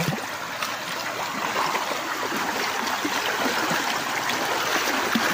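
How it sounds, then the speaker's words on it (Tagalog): Steady rushing of a flowing river, a continuous broadband wash of water with faint splashing detail, close by and unbroken throughout. "Magandang pakinggan ang lagaslas ng tubig, yung kuwan niya, agos."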